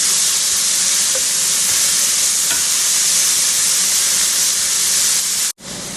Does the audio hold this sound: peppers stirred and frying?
yes